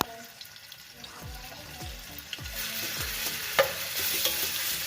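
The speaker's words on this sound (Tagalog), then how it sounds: "Gigisa ko muna siya." Beef bacon and aromatics sautéing in a pan for Bicol Express, with a soft sizzle, repeated scraping stirs and occasional clinks, close and moderately loud.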